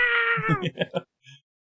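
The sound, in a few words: voice imitating adorable pixie boos, like kittens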